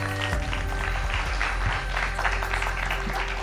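Studio audience applause at a Hindi news channel event welcoming a bhajan singer, a steady wash of clapping lasting a few seconds with no talk.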